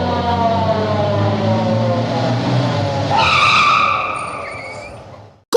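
Police car sound effect: a loud engine roar and rolling rumble, then a sharp rising tire skid squeal around the three-second mark that fades out, ending with a brief thump.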